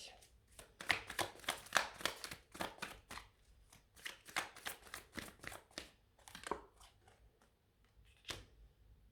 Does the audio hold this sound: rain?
no